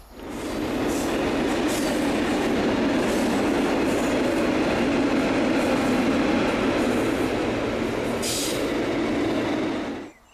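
A train rumbles steadily past overhead on a railway viaduct, a loud continuous roar with faint clicking of wheels, fading out abruptly at the end.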